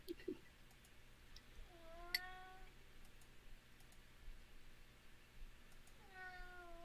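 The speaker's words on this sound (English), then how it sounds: "Did you hear that cat?" A cat meows indoors in two clear, drawn-out calls, one near the middle and another at the end, over a quiet room hum with faint clicks.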